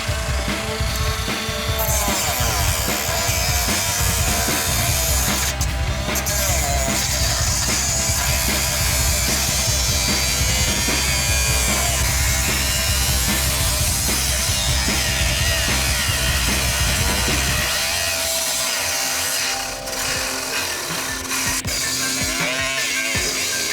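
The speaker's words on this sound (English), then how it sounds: "I'm just gonna have to make some cuts with the Dremel" A Dremel rotary tool cuts Nerf blaster plastic with a continuous, loud, close grinding whine that shifts as it bites, then eases toward the end.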